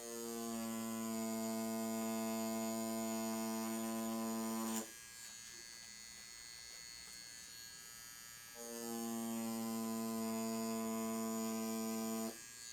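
A coil tattoo machine with a big needle buzzes steadily while lining a Naruto tattoo outline, loud and close, in two long runs with a short pause between them; no one talks.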